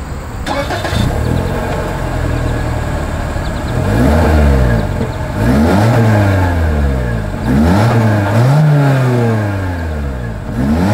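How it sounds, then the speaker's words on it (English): A 2025 Toyota Corolla Hatchback engine revs repeatedly through its exhaust, rising and falling in several loud, throaty bursts with no talking. "As always, here is that exhaust clip."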